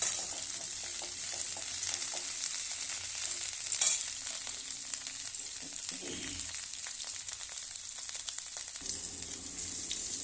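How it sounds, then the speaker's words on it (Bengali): Cauliflower from the garden fries lightly in white oil, a steady soft sizzle with occasional stirring scrapes and a brief clatter, close and continuous without talking. "বাগানের ফুলকপি হালকা করে ভাজবো বেশি ভাজবো না"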